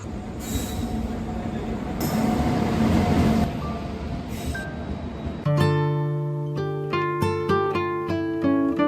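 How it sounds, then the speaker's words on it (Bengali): A train pulls into a station with a loud rumble of wheels, squeals and rail noise, then a sustained tonal, horn-like blare takes over for the last few seconds. No one speaks. "ট্রেন ঢুকছে।"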